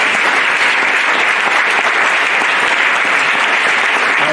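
A church congregation at a French-language service breaks into loud, steady applause that fills the room evenly from start to finish.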